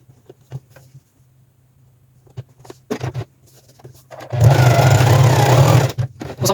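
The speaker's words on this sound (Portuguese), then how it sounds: "Vou colocar o elástico aqui junto e vou passar uma costura só aqui, deixando 1 centímetro de margem aqui." A sewing machine stitches elastic into the waistband of a pair of trousers in one loud, steady run near the end, after scattered handling taps and brief quiet stretches.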